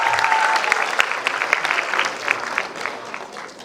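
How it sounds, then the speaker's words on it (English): Audience applause for a college semester topper at a university awards ceremony, a steady burst of many hands clapping close and loud, gradually thinning toward the end. "A round of applause for Krina Shah."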